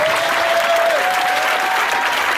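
A church congregation at a Sunday service claps and cheers loudly and steadily, a dense continuous wash of applause with a faint sustained tone running beneath it.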